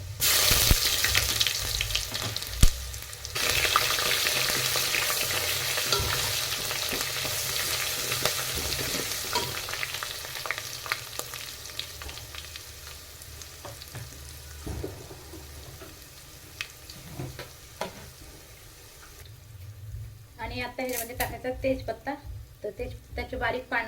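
Ginger garlic paste frying and being stirred in a pan, a loud steady sizzle with scraping stirs that eases off midway, followed near the end by brief running water and faint speech.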